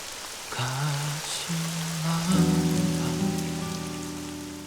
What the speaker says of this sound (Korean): 단비가 비를 몰고 왔다.